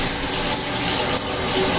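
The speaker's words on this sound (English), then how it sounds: "Water is working, both hot and cold." A bathroom tap runs in a house, giving a steady, loud, close hiss of flowing water that holds without a break for the whole stretch, with no voices.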